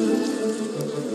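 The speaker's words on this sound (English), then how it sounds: "This returning bee has just found a new source of nectar and is going to tell others in the hive about it." Honey bees in a hive, a dense, continuous buzzing drone of many insects at close range, steady throughout with no voices.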